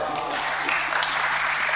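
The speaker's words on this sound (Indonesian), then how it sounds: "Jenengan tepuk tangannya telat" Audience clapping at a religious study gathering, a dense steady patter of many hands sustained at even loudness through the short stretch.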